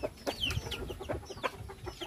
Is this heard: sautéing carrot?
no